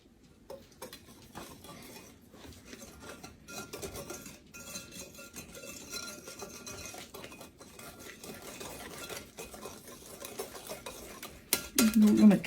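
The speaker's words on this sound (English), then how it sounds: "We're going to keep whisking that together." A whisk stirs sugar and flour together in a bowl for a pecan pie filling, making a continuous rapid scraping and ticking against the bowl that grows louder toward the end, with no talking.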